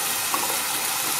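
Water runs from a kitchen tap for a brief rinse, a steady close hiss of flowing water with no talking.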